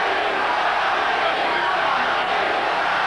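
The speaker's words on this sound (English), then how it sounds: "The crowd chanting, Tommy, Tommy." A large boxing crowd roars and chants "Tommy" continuously in a packed arena, a dense, steady wash of many voices.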